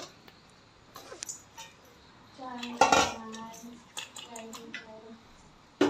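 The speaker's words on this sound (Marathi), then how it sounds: "उरलेली आता मी टाकतोय चण्याची डाळ." Chana dal goes into a metal pan with clinks and scraping of a spoon against the pan, scattered close knocks between quieter pauses, while someone speaks over part of it.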